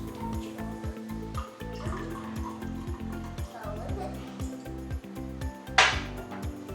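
Juice is poured to fill a glass, a gurgling trickle of liquid running beneath children's chatter, ending with a brief bright splash.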